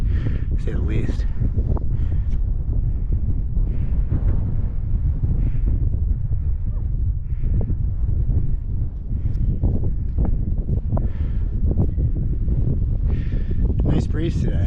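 Wind buffets the microphone on a mountain ridge during a Presidential Range traverse in the White Mountains, a steady low rumble with gusty swells, while people talk over it.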